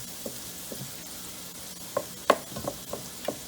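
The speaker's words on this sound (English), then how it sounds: "The garlic and the scallions are in, just to make sure they're all blended together. Let them cook up for a little bit." Garlic and scallions fry in a pan with a soft, steady sizzle. A few light stirring clicks and taps against the pan come near the middle and end. Close and fairly quiet, with no talking.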